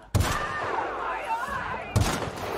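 Gunfire from The Outer Worlds video game: two sharp, loud bursts of shots roughly two seconds apart, with a sustained rumble of battle noise between them.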